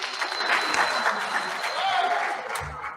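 Audience applause at a Hernando Schools board meeting during public comments, dense clapping in a meeting room that holds steady for about three seconds before tapering off.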